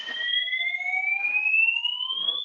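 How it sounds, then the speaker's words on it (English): A fire alarm rings indoors in one steady, loud electronic tone that slowly rises in pitch over a couple of seconds, with no voices over it. "The fire alarm started to ring."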